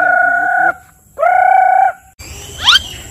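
A white-legged rooster gives two long, loud, sustained crowing calls, each about a second, followed by a short, sharp squawk, all close and clear with no talking.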